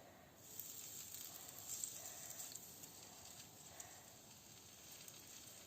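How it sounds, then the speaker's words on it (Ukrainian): Steady, even sizzling hiss of chopped meat cutlets frying in a pan, continuous and fairly quiet with faint crackles, no talking. "І відправляємо наші котлети на розігріту сковорідку"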